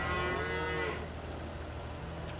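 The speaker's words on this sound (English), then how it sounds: "Whiny cows." Cows low in the Farming Simulator 22 farming game, first a long drawn-out moo and then quieter animal sounds, close up and heard on their own with no talking.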